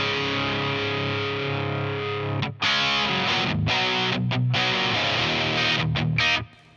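Distorted electric guitar through an amp, miked with ribbon microphones and played with P90 pickups, rings out in loud sustained chords with two brief breaks, then cuts off near the end.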